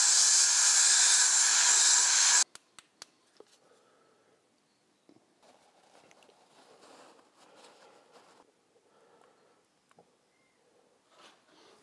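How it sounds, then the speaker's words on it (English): A can of WD-40 sprays in a loud, steady hiss into the crankcase of a 1930s motorcycle to flush out old, black, gritty oil. The spray lasts about two seconds and cuts off abruptly, followed by quiet clicks and faint handling noises. "we're chasing it out with some WD-40"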